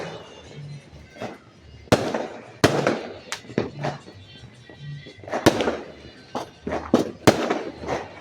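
New Year fireworks celebrating the first minutes of 2025, with loud sharp bursts and crackling pops at irregular intervals over a steady distant rumble of more explosions.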